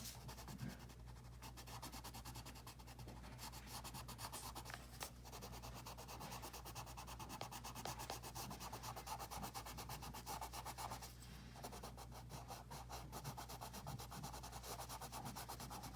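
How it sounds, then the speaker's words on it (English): Colored pencil burnishing on paper, a steady soft rubbing and scratching that continues for the whole stretch, close and quiet, with a short pause near the start and another partway through. "I'm just continuing to burnish that section right there"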